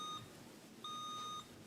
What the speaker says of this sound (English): Let's give everybody a chance with the buzzers.